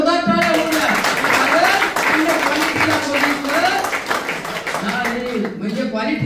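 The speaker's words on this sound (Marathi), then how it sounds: "मग मॅडम साठी एकदा जोरदार टाळ्या होऊ द्या" A seminar audience claps for a woman presenter: a burst of scattered, fairly dense applause that mixes with a voice continuing to speak over it.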